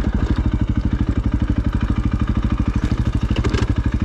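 A 450 dirt bike engine putters in a fast, even rhythm on a Sunday morning ride through Wilson Canyon in Smith Valley, Nevada, the loud close pulsing steady throughout with a slight rise near the end.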